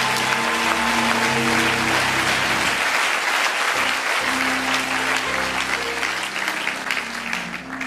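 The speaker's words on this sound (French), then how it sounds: "acclame, acclame, acclame, acclame, acclame" A church congregation claps in sustained, dense applause throughout, loud and close, with a faint crowd murmur beneath.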